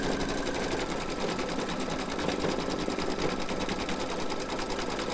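An embroidery machine stitches a free-standing lace bookmark, its rapid needle chatter running as a dense, steady mechanical whir throughout, close and loud with no talking.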